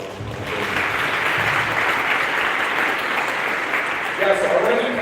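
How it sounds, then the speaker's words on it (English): Sustained applause from a hackathon audience fills the whole stretch, steady and dense, swelling slightly near the end, with some voices mixed into the crowd. "So, can we get another round of applause?"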